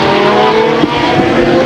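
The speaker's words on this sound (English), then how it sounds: "Oh no, we have flying race cars on the track over there in the turn 1 area." Race car engines roar loud and close at a speedway as a crash unfolds, with tire squeal and skidding layered over the sustained high engine drone.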